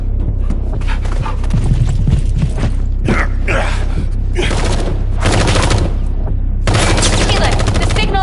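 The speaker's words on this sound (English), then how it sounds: "gunfire" Gunfire in the video game The First Descendant comes as repeated loud bursts and sustained volleys, mixed with mechanical creaks and other game effects.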